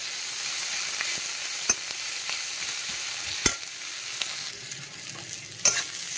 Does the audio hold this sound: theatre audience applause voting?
no